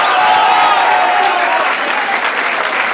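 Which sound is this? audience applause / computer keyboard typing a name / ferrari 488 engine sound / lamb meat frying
audience applause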